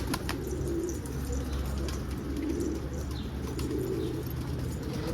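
Domestic pigeons, adults among young birds, coo in low repeated rumbling calls close by, a steady throaty murmur with faint chirps and light rustling, no talk.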